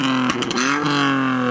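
A modified Peugeot 107 project car with an aftermarket exhaust revs loudly up close, the engine note climbing and holding a steady drone after a brief blip.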